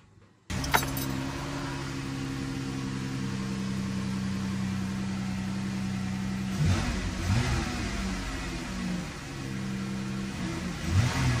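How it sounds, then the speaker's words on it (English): A car engine with its accelerator pushed to the floor during a throttle body cleaning check, holding a loud steady high drone close by, then its pitch wavers and shifts near the end. "I'm going to push the accelerator all the way to the floor."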